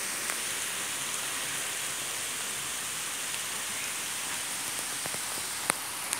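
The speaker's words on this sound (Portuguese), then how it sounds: "E aí a chuva chegou mesmo." Steady rain falls outdoors near a parked car, a broad even hiss with a few sharper drop taps near the end, and no voices over it.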